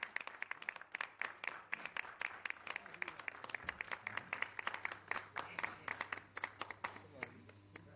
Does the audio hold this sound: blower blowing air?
no